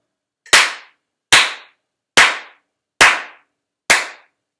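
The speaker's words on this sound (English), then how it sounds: "So line 37, clapping." Five sharp, loud hand claps ring out alone at an even, unhurried beat during a saxophone lesson, each crisp strike fading quickly into silence before the next.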